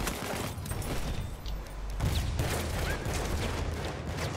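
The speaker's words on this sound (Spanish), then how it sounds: "Uno con la ametralladora." Machine gun fire in a Battlefield 1 battle crackles as dense overlapping bursts of gunfire and distant booms, steady and moderately loud throughout with no pauses.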